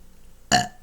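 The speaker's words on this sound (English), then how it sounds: "confirmation burp" A single short, loud burp erupts abruptly after near silence and fades within a fraction of a second.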